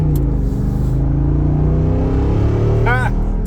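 A Jeep 392 Wrangler's V8 exhaust rumbles loud and close with a steady low drone, then swells briefly as it revs near the end, with people talking over it.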